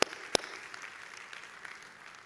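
A church congregation applauds faintly in a distant, diffuse patter that trails off gradually, with two sharp nearby knocks at the start.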